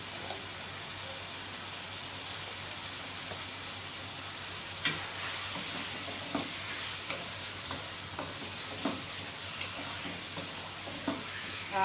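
Steady low sizzling of garlic, ginger and green chili paste frying in a pan, with occasional stirring clinks and spatters across the whole stretch; no voices.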